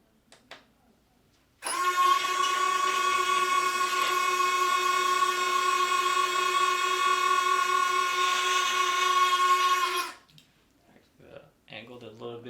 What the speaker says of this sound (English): now we got the retracts all installed. We're just gonna go ahead and cycle it.